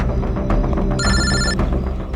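A telephone rings once in a short electronic burst of bright, warbling tones over a dense, loud background bed.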